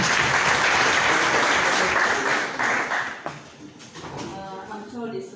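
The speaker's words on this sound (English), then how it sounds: "Can we applaud both Joel and Lewis?" An audience at a political gathering in Jinja gives Joel and Lewis a loud burst of applause that fades after about three seconds, and voices and crowd murmur follow.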